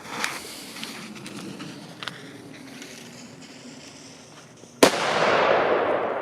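Scattered distant firework pops and crackles, then one sharp loud bang from a Killer Bull Dog XP1030 Triplex firecracker followed by a long roaring hiss of crackling bursts.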